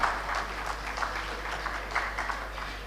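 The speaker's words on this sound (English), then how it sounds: "Can we please have a big round of applause, everyone?" A conference audience at RailTrans Expo 2024 claps in steady, dense applause that carries on evenly for a few seconds, heard from within the hall.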